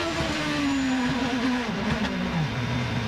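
IndyCar race cars roar away at the start of a wet race, a loud engine whine sliding down in pitch as the cars pass, with steady spray noise beneath.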